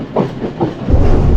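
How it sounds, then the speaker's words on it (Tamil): A blue train rolls along a railway line on a slow Sri Lankan hill-country journey, a close steady rumble with faint rhythmic clatter that swells louder toward the end. "அங்கே ஒரு ப்ளூ ட்ரெயின் போகுதுங்க, அங்கே ஒரு லைனில்."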